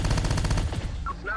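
Rapid bursts of automatic gunfire in a military shooter video game, loud and close, a dense rattling volley lasting about a second before it breaks off.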